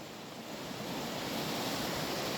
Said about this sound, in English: there's a little creek coming down through here